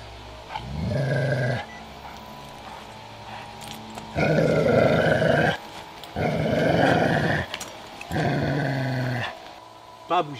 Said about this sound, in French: Vous avez un chien extrêmement dangereux.